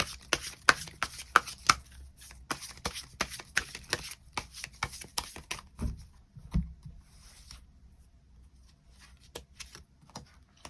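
Tarot cards being shuffled and drawn, a dense run of crisp riffling slaps and flicks up close for about six seconds, then sparser soft card snaps and handling taps.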